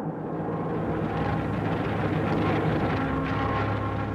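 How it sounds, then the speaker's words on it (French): A wave of 1940 wartime aircraft flies low over the town of Saumur, a dense, loud engine roar that rumbles on steadily and swells slightly midway. "une vague d'avions survole la ville à basse altitude"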